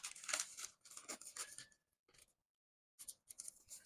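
Scissors snip through fabric while a strapless tube dress is cut out, a series of short close crisp cuts with a brief pause in the middle before cutting resumes, quiet and without talking.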